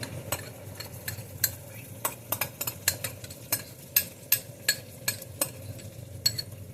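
Italian-spiced sauce being stirred into a pan of meatballs, a spoon scraping and clacking against the pan in irregular close strokes over a low simmering hiss, no voices.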